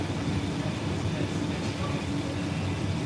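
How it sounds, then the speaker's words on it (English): A London Underground Central Line train bound for Epping rumbles along in a dense, steady roar, heard from inside the carriage with no break in the noise. "This is a Central Line train to Epping."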